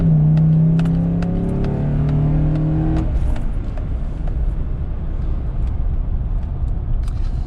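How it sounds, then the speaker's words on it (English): A used truck's engine revs hard at full throttle and holds high for about three seconds, then drops back to a rough idle with faint clicks and rattles. "I'm pretty much going to floor it and just run it up and listen for the engine"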